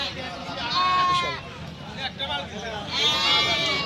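A dairy goat bleats in several drawn-out wavering calls, close and loud, with livestock nearby and people talking in the background.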